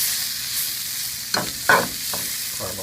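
Onions caramelizing in a pan over medium-low heat give a steady, soft sizzle, with a couple of sharper scrapes from stirring partway through.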